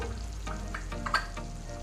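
Mint and curry leaves hitting hot oil in a frying pan for mushroom masala curry, a close crackling sizzle with a few sharper pops over a short stretch, no talking.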